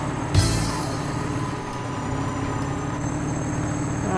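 A train rumbles past in Farming Simulator 22, a steady rolling drone with a sharp clank near the start, holding at moderate loudness.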